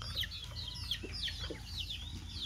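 Newly hatched Muscovy ducklings give repeated high, thin peeping calls in quick succession, close and fairly clear over a low background hum.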